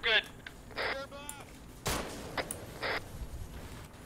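Video game gunfire in Operation Iron Mountain: a handful of sharp, separated shots and bursts, fairly faint, spaced irregularly over a few seconds with quiet gaps between.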